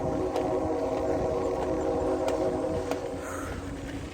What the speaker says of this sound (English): Oh man, I just hear a train.